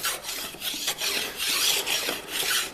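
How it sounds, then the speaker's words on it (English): Block plane shaving and rounding over the edge of a wooden lamp part by hand, giving repeated raspy strokes in a steady back-and-forth rhythm, close and fairly loud. "now I can round it over with the block plane"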